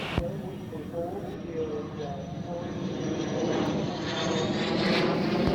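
Propeller aircraft taxiing toward the runway at an airshow, its engine drone steady and gradually growing louder, with radio and spoken voices heard over it.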